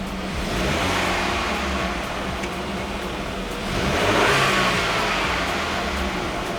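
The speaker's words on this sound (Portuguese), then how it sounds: "Agora nós vamos fazer algumas oscilações de rotação para ver o deslocamento." A car engine, rigged with a wideband oxygen sensor, revs up and down in a workshop, its steady mid-pitched drone swelling and easing through a couple of throttle changes with no talking.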